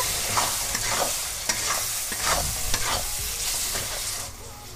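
Spice masala with chopped tomato sautéing in a pan, with a steady close sizzle and repeated scraping stirs of a spoon at a loose, uneven rhythm; no voices.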